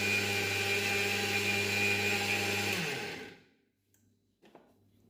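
A mixer grinder whirs loudly and steadily, grinding spices into a fine tea masala powder, then winds down to silence, followed by a couple of faint clinks.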